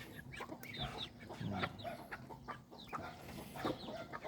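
Ducks in a farm pen make faint scattered quacks and soft calls against low background noise, with some distant murmuring mixed in.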